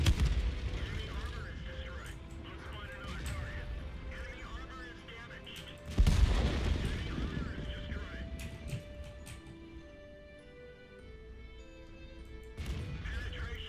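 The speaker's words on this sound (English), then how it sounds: "Let's make some shots count." Tank cannon fire in the World of Tanks video game, with a FV215b, M46 Patton and Bat.-Chatillon 25t involved, two heavy booming shots several seconds apart over a rumbling battle bed, with someone talking faintly underneath.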